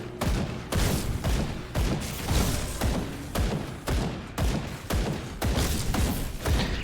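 Dynamite explosions in the video game Grim Dawn, a rapid string of loud, heavy blasts and thumps landing roughly every half second with hardly any pause between them.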